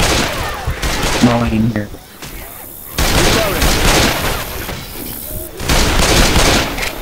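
Gunfire in Left 4 Dead comes as loud, dense bursts of shots that fill most of the stretch, with a short lull in the middle. Players talk over the shooting.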